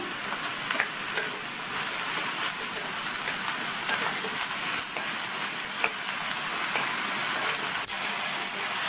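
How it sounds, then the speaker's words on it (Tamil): Ridge gourd sautéing in oil over a high flame, giving a loud, continuous crackling sizzle with occasional sharper pops and stirring clicks, heard close and without any talking. "இந்த பீர்க்கங்காயை எண்ணெயிலேயே நல்லா ஒரு 2 நிமிஷத்துக்கு ஹை ஃப்ளேமில் வச்சு வதக்கிக்கணும்"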